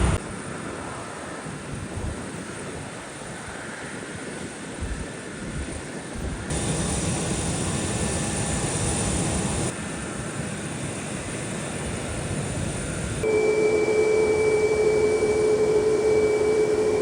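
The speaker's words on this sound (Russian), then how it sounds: "Перед нами Airbus A320, единственного узбекского лоукостера Centrum Air." A Centrum Air Airbus A320 at Tashkent airport gives off a steady jet engine whine with a sustained tonal hum that grows louder and higher toward the end, with no voices.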